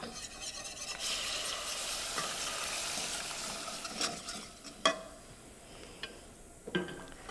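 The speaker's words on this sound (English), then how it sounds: "Now I'm gonna add the hot milk to it, and it's gonna thicken it." Hot milk is whisked into a butter-and-flour roux for a white sauce over low heat, making a soft, continuous sizzling stir that fades toward the end, with a few light taps of the whisk against the pan.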